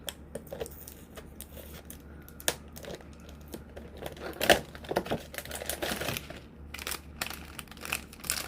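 A blood sugar control supplement package with oat fibre is torn open and handled, giving a run of close, dry crinkling and ripping rustles with a sharper tear midway, no talking.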